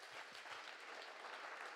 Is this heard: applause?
yes